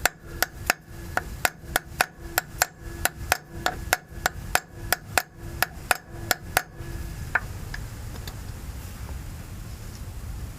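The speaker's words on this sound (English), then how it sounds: "If it's hard to take out, use a brush drift and hit on the bolt." A brass drift is struck with a hammer to drive out a bolt while a front diff locker is fitted to a Toyota Troopcarrier: about twenty sharp metallic blows in a quick, even rhythm, then a few scattered taps and quiet.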